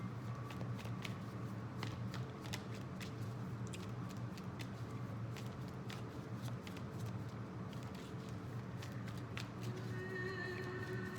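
Tarot cards are shuffled close by in a steady run of crisp, rapid riffling and flicking clicks that continue throughout over a low background hum.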